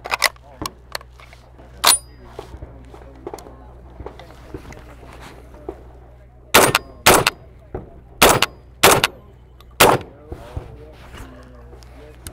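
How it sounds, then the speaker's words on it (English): A Rock Island Armory VR80 semi-auto shotgun fires outdoors at a SHOT Show range in loud, sharp blasts, a few singles then a rapid string of about five shots, with talk and background chatter between them. "So let's shoot it."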